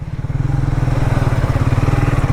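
A motorbike rides along on a long-ride setup, its engine thumping in a fast, even pulse that stays loud and close the whole time, with no talking.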